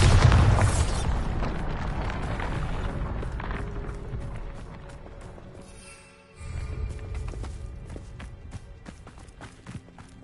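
A Bombarda spell explosion in the video game Hogwarts Legacy lands as a loud booming blast at the start and decays over several seconds. A second surge follows, then rumbling game sounds and footstep-like thuds.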